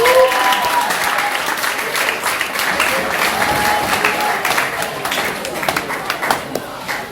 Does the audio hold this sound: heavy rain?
no